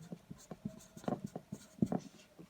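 Pen or marker writing by hand while noting a resistor color code in an electronics lesson, heard as a run of soft scratchy strokes with short pauses between them, close and fairly quiet.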